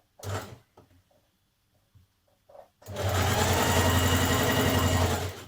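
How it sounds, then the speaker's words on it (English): A domestic sewing machine runs two close lines of gathering stitches along the top of a smock dress skirt, with a few handling clicks first and then a steady, loud motor whir for several seconds. "So you do this by sewing 2 lines of stitching close together."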